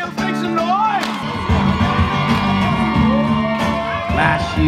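Concert crowd on the 2021 Black Heart Tour cheering, whooping and shouting loudly throughout, a dense wall of voices with an excited yell rising above the roar.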